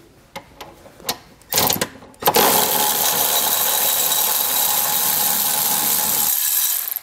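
A power tool buzzes steadily while removing the 17 mm bolts that fasten a tow hook to the frame rail of a 2018 vehicle, preceded by a few short clicks and bursts, then runs loud and continuous before stopping.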